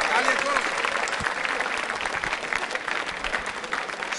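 Audience applause at a live school quiz show, a dense steady wash of clapping running throughout, with a voice talking over it.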